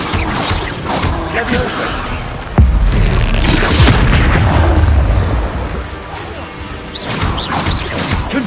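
Explosive Confringo fire-spell blasts in Hogwarts Legacy, a heavy boom landing mid-way with crashing impacts around it, while a voice shouts spell names.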